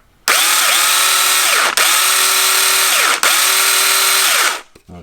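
A Ryobi 8-inch battery chainsaw on a small 1.3 amp battery whines at high speed in three loud, close bursts, each ending in a brief dip before spinning down at the end.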